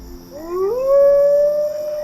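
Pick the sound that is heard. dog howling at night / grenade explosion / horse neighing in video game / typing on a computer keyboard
dog howling at night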